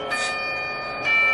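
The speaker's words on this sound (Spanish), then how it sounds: "cuarto. Campanada." A clock bell rings out on New Year's Eve before the midnight strokes. It is a sustained, resonant tone that is loud and steady, with a fresh strike swelling in near the end.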